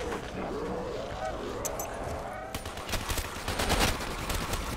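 Rapid gunfire from an MP40 submachine gun in Black Ops 3 zombies mode, bursts of shots growing louder toward the end amid a busy game mix with faint voices.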